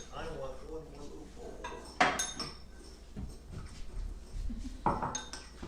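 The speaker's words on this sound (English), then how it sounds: "the next thing it says to do is to stir up all the oil on the veggies like that" Utensils clink and scrape against a bowl as olive oil is stirred through vegetables, with a couple of sharper knocks at intervals amid soft background noise.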